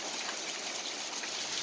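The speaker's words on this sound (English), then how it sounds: "I just can't believe how much it's raining right now." Heavy rain pours outside a front door in a dense, steady hiss of falling water and splashing drops, continuous and close, with no one talking.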